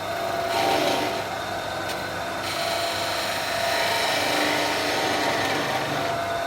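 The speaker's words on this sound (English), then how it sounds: "then you can start parting off, working back towards the hat" A skew chisel parts off a small wooden snowman on a wood lathe, giving a continuous hissing, scraping cut over the lathe's steady hum, close and moderately loud, with brief changes in pitch as the cut shifts.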